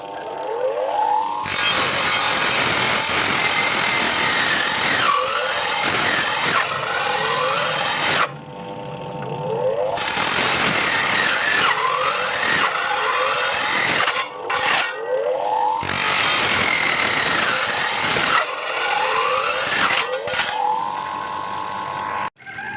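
A power tool cuts coconut shell into pieces for rings, a loud, continuous high whine that runs in three long bursts with short pauses between cuts and pitch shifts as the blade bites the shell.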